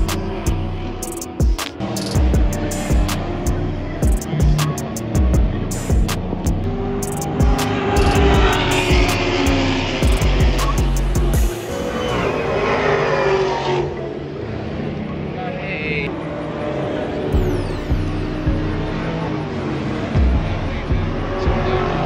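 Cars race around the track at an NCM Motorsports track day during CamaroFest XI, a dense, continuous engine roar with passing surges and faint voices at times.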